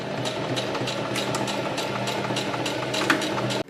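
A sewing machine runs steadily, stitching plastic boning and fabric together for a fairy costume for A Midsummer Night's Dream. The motor hums continuously and up close for the whole stretch, with a faint click near the end and no talk.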